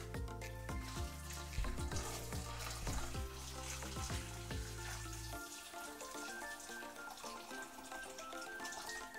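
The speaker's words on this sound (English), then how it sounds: "I'm gonna add some boiling hot water in the saucepan." Boiling water poured into a saucepan of chicken wings with a steady rushing, sizzling hiss that continues alone after background music drops out midway.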